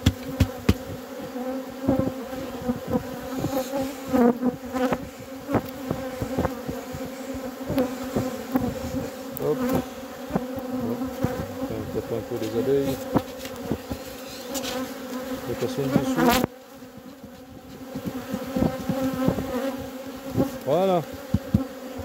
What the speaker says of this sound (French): L'essaim est constitué.